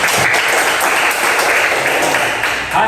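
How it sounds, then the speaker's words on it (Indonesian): Applause in an elementary school classroom after a group presentation, loud continuous clapping from many children filling the room without a break. "Tepuk tangan."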